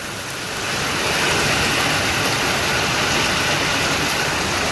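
Heavy rain pouring down over a village, a dense broadband roar that swells in the first second and then holds loud and steady.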